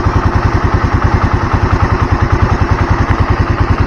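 A motorcycle engine running on Unil Opal Racing 10W50 oil after over 2000 km idles steadily close by, with a low, even, rapid throbbing pulse throughout.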